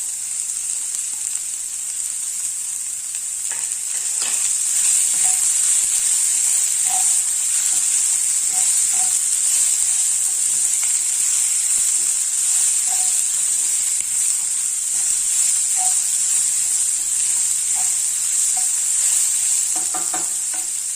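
Carrot and capsicum sizzle steadily in a hot pan for a masala bun filling, a loud continuous frying hiss broken by scattered pops and stirring scrapes, with no voices.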